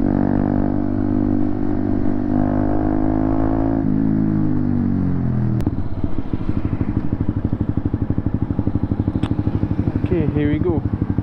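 A motorcycle engine idles and runs steadily nearby, with a low, even mechanical drone that roughens and pulses toward the end, as if the throttle is blipped.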